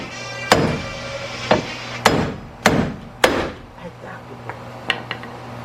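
Someone hammers a hinge pin out of a GM car door, giving about eight sharp, ringing blows at uneven intervals, close and loud, with quieter knocks between them.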